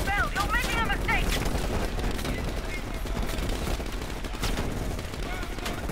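Heavy gunfire in a Call of Duty match: dense bursts of rapid automatic shots and booming reports, loud and nearly continuous, with voices shouting over the battle.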